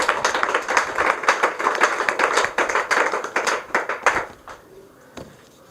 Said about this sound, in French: Acclamons très fort le roi